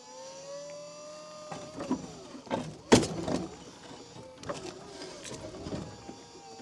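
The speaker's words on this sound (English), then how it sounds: "Get my blade down. Start working this thing." A Case CX15EV electric mini excavator working with its blade down, a quiet electric whine with hydraulic hums and scattered clunks and scrapes, one sharp knock in the middle.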